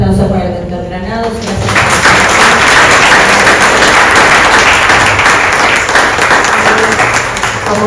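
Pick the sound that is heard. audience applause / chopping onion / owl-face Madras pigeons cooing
audience applause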